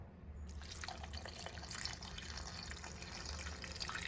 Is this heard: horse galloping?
no